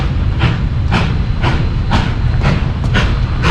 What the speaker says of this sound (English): Oh, that's the whole train.